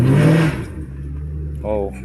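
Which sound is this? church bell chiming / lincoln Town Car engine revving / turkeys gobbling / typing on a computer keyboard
lincoln Town Car engine revving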